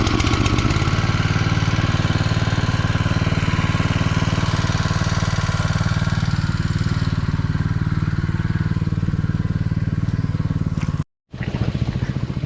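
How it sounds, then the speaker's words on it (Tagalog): A boat motor runs steadily after being started, a loud continuous low rumble close by that holds for about eleven seconds, cuts out briefly, then resumes. "Okay yung makina, all goods."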